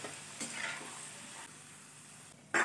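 Potato slices half-frying in hot oil on a high gas flame for Sindhi aloo tuk, a steady close sizzle with a few stirring bumps and a brief louder burst at the end.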